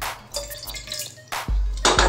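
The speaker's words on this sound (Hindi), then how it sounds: "तो मैंने ये एक देगची ली है, इसके अंदर एक कप पानी मैं डालूंगी।" A cup of water poured into a cooking pot (degchi) on a home kitchen counter, splashing and trickling in short bursts that end in a steady, louder pour, with no talking.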